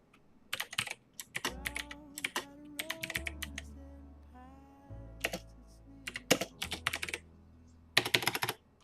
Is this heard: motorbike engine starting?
no